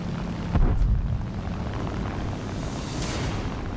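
A WWII-era aircraft engine in a flight video game produces a steady, loud, broad roar. A brief heavy thump sounds near the start.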